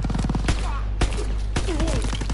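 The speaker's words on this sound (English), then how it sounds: "I shot 3 bullets into a guy's head, and they didn't die." Three sharp gunshots at roughly half-second intervals sound from a WW2 video game firefight. A voice speaks over the shots and between them.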